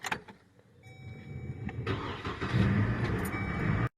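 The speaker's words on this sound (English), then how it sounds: "Time to warm up the old Chevy." An old Chevy cold-starting on a frosty morning, a faint whirring crank that catches into a rising, rumbling engine and settles to a steady run before cutting off.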